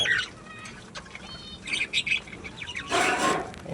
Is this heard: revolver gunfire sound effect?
no